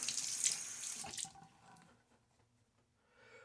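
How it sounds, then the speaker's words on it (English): Running tap water rinsing out a tub of vegan shaving soap, a steady splashing rush for just over a second before it cuts off, leaving faint drips and quiet handling, close by and without talk. "Now that my hands are clean, I'm going to rinse the tub off"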